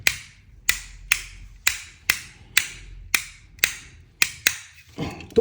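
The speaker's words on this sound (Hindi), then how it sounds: "ये ऑन एंड ऑफ वाला स्विच है, तो आप देख रहे होंगे कि इसकी आवाज़ बड़ी सॉलिड है।" A TJ Tux series on-off electric switch with a polycarbonate cover snaps sharply about a dozen times at a steady rhythm, each crisp click close and distinct against near silence.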